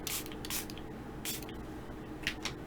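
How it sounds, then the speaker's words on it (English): A face-mist spray bottle spritzing in short, close hissing bursts, about four quick sprays spaced unevenly over a steady low background hum. "I got a face spray again."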